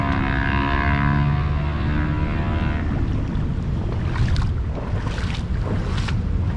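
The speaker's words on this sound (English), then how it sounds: "somebody took the muffler off their motorcycle so we could see them" A motorcycle with its muffler taken off gives a loud, raw, continuous engine drone that holds steady and then grows rougher and more ragged, with no voices.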